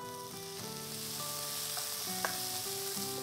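Dried red chilies, ginger and green chilies frying in hot oil, a dense continuous sizzle heard close up with a faint steady tonal hum beneath and a small clink partway, no speech.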